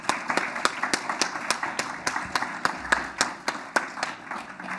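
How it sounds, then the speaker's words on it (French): Audience applause for three presenters at a university history colloquium, a modest crowd clapping steadily with distinct individual claps standing out, moderately loud and without talk. "je vous inviterai tous à applaudir une dernière fois nos 3 présentateurs."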